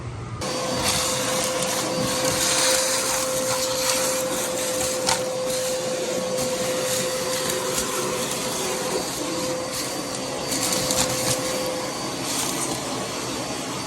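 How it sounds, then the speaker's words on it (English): Vacuum cleaner running steadily inside the trunk of a Bel Air demo derby car, a loud continuous whine with occasional knocks and scrapes as the nozzle moves around. "Get done vacuuming out the trunk."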